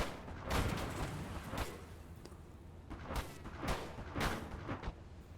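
Anti-tank gun fire in the World War II strategy game Gates of Hell: Ostfront, a string of heavy booming shots at irregular intervals over a rumbling battlefield background, moderately loud, with no talk.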